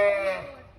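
Sheep bleating in Norway, a single close, loud, tonal bleat that starts strong and fades over under a second, with no talk over it.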